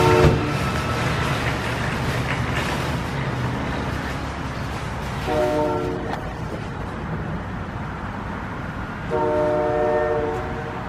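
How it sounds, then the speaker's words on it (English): A train passes nearby on a snowy night between Seneca Falls and Geneva, New York, a steady loud rumble of rolling cars broken by two long blasts of the train horn partway through. "Apparently there's a train nearby."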